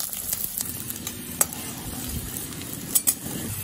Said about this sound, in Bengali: আর 1 পিঞ্চ হলুদ দিয়ে আমি আলুটা খুব ভালো করে ভেজে নেব।